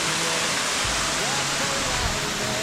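Rushing waterfall in Northern Wisconsin, shallow water pouring steadily in a loud, continuous broadband roar close by, with no talk heard.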